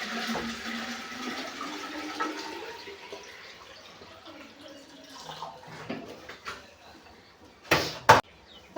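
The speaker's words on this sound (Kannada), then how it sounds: "ಅದು ಎಷ್ಟು ಇಡಿಸುತ್ತೋ ಅಷ್ಟು ನೀರು ಹಾಕ್ಬಿಡಿ ಅರ್ವಿ ಒಳಗಡೆ" Water is poured into an earthenware clay pot used for keeping drinking water cool, making a steady close rushing splash. A few sharper knocks and splashes come near the end.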